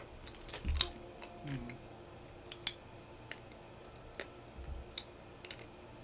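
Mouse clicking on the cookie in a clicker video game: sparse, sharp clicks, about a half-dozen spread irregularly over several seconds, close and fairly quiet over a low room hum.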